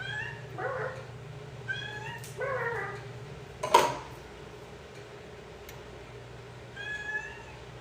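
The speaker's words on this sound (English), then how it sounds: "Does anyone else's cat talk as much as mine?" A black female cat meowing repeatedly indoors, several drawn-out, talkative calls spaced a few seconds apart, close and clear over a low background hum, with a sharp knock in the middle.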